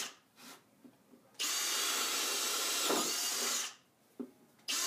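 A power drill whirs steadily at high speed for a couple of seconds, bracketed by quiet handling clicks and a brief restart at the end.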